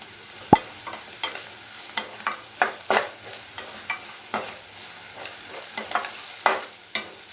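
Onions frying in a pan with turmeric and asafoetida, a soft sizzle under repeated scraping stirs in an irregular rhythm, close and clear.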